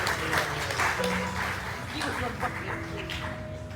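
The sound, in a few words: audience round of applause for a family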